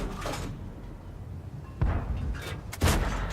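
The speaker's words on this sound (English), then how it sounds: "E25 Anachrome just shooting at him" Tank cannon fire from World of Tanks, with an E25 tank destroyer shooting at an enemy KV-1 during a battle: two loud, sharp booms about a second apart, each followed by a short decaying rumble over steady background game noise.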